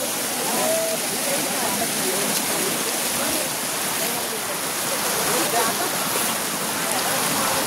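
A monsoon waterfall on the Nakhind trek rushes with a loud, constant broadband roar that fills the whole stretch, with faint voices mixed into the noise.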